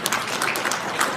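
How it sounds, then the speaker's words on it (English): An audience applauds at an orchestra's concert season announcement, a dense, steady wash of clapping from a full hall that carries through the whole short stretch without voices. "Keep that applause going."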